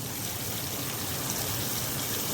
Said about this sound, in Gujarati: થોડુંક પાણી પણ એડ કરી દઈએ.